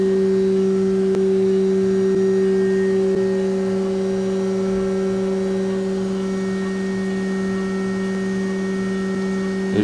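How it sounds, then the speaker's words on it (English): A CNC machine cuts metal parts, giving off a loud, steady tonal hum that holds constant throughout with no talk. "We have a CNC machine as it's running apart."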